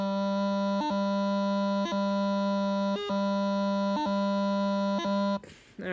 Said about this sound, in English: the first sound you hear out of the chanter is that G grace note